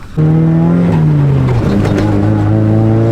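A Nissan 180SX with an SR20 engine drives off loudly from close inside, its engine note sagging slightly and then climbing again as it pulls away.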